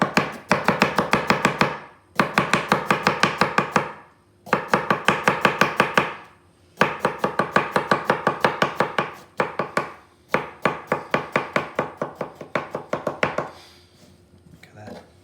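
A knife chops thin slices of ginger on a cutting board in quick, steady bursts of sharp taps, with short pauses between runs, close and loud, fading off at the end.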